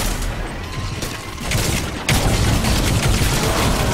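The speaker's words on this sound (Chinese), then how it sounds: "爆炸即刻" An explosion goes off in the video game Crysis 3, a sudden broadband boom midway through the clip that breaks through an ongoing layer of gunfire-like crackle and rumble.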